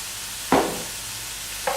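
Meat pie filling of vegetables and tomato cooking in a pan, a low steady sizzle broken by two short scraping stirs, close by and without speech.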